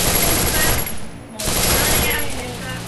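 Rapid automatic gunfire in the Free Fire video game's bomb squad mode, dense bursts filling the clip with a brief lull midway, loud and continuous.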